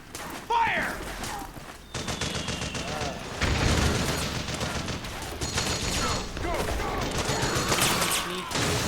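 Sustained suppressing gunfire in Metal Gear Solid 4 rattles in dense automatic bursts, loud and close, broken by a short pause early on, with faint voices and battlefield noise mixed underneath.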